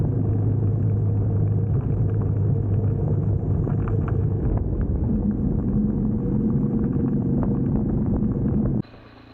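Motorcycle on knobby tires crossing a grated bridge on a solo Alaska trip, a continuous low droning rumble with a buzzy tire hum that stays steady and loud, then drops off abruptly at the end.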